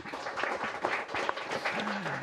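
Audience clapping for Pak Ujang at a panel event on transmigration and village development, a moderately loud irregular patter of hands lasting a couple of seconds, with a brief voice or tone sliding in near the end.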